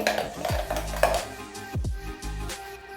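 A spoon stirs a few drops of kewra into creamy lassi, giving sharp metallic clinks and scrapes against the vessel. The strokes come in several close bursts, near and fairly quiet, with no talking.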